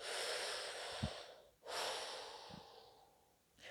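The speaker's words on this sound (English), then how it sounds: "you breathe in and out through resistance" Slow, deep breaths drawn in and out with a rasping, restricted hiss, close up, two full cycles with brief pauses between them.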